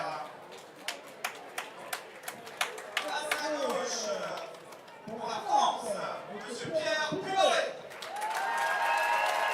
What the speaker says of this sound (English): the intro of Pierre Puy-Barré gets the big reaction from the crowd here